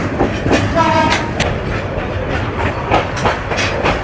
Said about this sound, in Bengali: বুড়িমারি এক্সপ্রেস এই মুহূর্তে বিমানবন্দর রেলওয়ে স্টেশনে প্রবেশ করলো